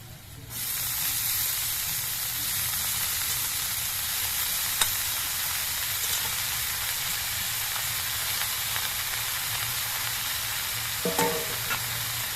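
Leafy greens and potatoes frying in a pan, a loud steady sizzle and hiss that starts suddenly and keeps going, with faint stirring scrapes and a brief clink near the end.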